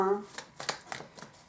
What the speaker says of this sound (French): On va demander 3 cartes